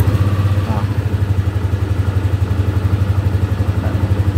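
Motorcycle engine cranked on the electric starter and then running, with a steady, close, rhythmic low chugging throughout and someone talking over it.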